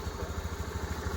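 A Honda Activa scooter engine runs steadily up close, its low, even putter pulsing rapidly and evenly throughout with no talk.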